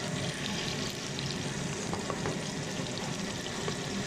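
Onions and green chillies frying in oil for chicken keema, a steady soft sizzle and crackle held at low level, with occasional faint stirring taps and no voices.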